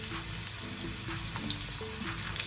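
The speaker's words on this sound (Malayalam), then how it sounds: "ഇതൊരു ഗോൾഡൻ ബ്രൗൺ ആവുന്നിടം വരെ നമുക്കിതൊന്ന് ചൂടാക്കിക്കൊണ്ടേയിരിക്കാം" Chopped garlic and ginger fry steadily in hot oil in a pan for a dal curry, giving a dense, continuous sizzle with faint crackles, close and loud, with no voices.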